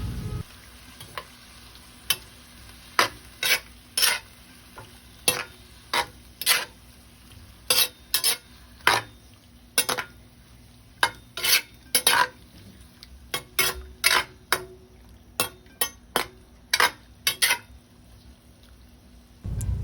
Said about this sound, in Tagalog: Halo-haluin.